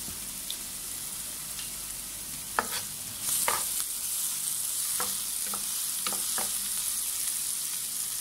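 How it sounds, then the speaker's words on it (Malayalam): Sliced onions sauté with a pinch of salt in a hot pan, a bright continuous sizzle with occasional ladle clinks and scrapes against the pan, close and steady. "സവാള ചേർത്തൊന്ന് വഴറ്റിയെടുക്കാം."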